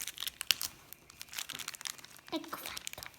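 Plastic blind-bag packet of Lost Kitties series 2 cut open with scissors, giving crinkly rustles and snips close to the mic, with a brief clearer snip partway through; no talk over it.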